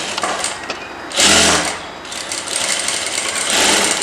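A sewing machine stitches a blouse, starting from the middle dart, in one loud burst of rapid whirring about a second long, with quieter machine noise before and after.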